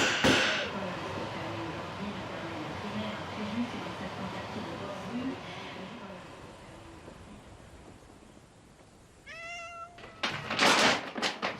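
A cat meows near the end, with a few clear rising and falling cries after a long stretch of steady rumbling background noise.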